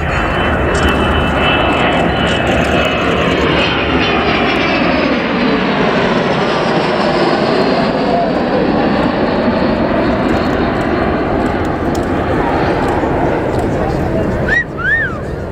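Avro Vulcan XH558 passing at the Yorkshire Air Show, its four Rolls-Royce Bristol Olympus engines producing a loud, sustained roar that swells and shifts pitch as the jet flies by, with a brief squeal near the end.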